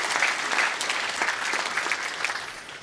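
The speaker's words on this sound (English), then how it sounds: "Hey, give a round of applause to Kyle, man." A university audience claps together at a Q&A event at Boise State, a steady burst of applause lasting a few seconds that fades slightly toward the end.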